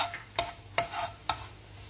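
Garlic frying in a little oil in a pan, a soft hiss punctuated by three sharp utensil taps or stirring clicks at regular intervals, close and quiet with no talking.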